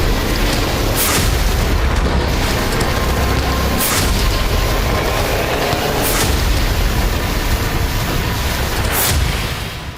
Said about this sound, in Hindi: गोलाबारी हो रही है।